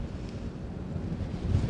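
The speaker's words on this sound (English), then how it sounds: "Way too windy." Steady low rumbling wind on a beach buffeting the microphone, a continuous blustery roar with no voices.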